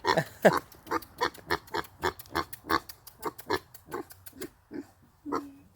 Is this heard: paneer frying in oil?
no